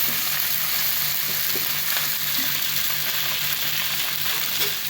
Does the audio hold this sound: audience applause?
no